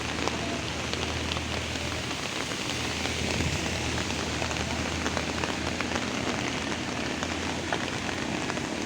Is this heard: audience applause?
no